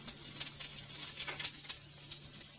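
Ghee sizzles steadily in a frying pan before a laccha paratha goes in, a close, continuous crackling hiss with small pops.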